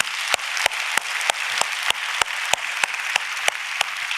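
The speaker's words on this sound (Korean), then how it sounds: "우리 아버지들을 위해서 한번 격려의 박수" A church congregation claps for fathers at a Father's Day service, sparse individual claps landing in a fairly regular rhythm, about a dozen sharp hits over a soft background wash.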